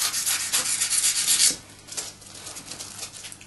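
A blade slices away at the edges of a taxidermy squirrel form to round them off: dense scraping strokes for a second and a half, then softer, sparser rasping close by.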